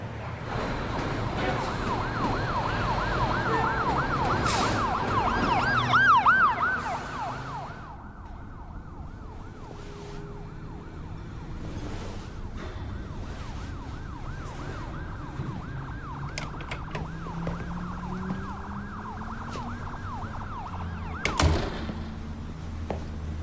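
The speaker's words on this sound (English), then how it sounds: "Sirens." Emergency vehicle sirens wail continuously in the street, a steady warbling tone over low traffic rumble that stays moderately distant, with a few brief knocks and thumps.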